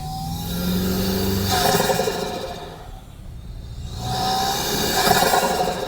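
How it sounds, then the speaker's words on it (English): A sports car's engine pulls hard with the window down, its blow-off valve and engine bay noise loud and close, rising in two long surges with a brief dip between. "it's pulling a lot of sound from the engine bay, including the blow-off valve or wastegate or whatever they put on there"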